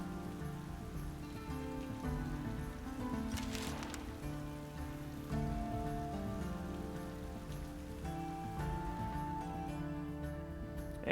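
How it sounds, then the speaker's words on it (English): Steady rain falls in the fantasy strategy video game Thea 2: The Shattering, a soft, constant patter that carries on under faint musical tones throughout. "And the rain has stopped."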